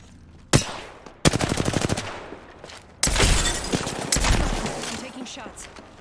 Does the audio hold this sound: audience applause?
no